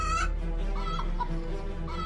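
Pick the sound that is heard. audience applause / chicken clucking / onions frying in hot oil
chicken clucking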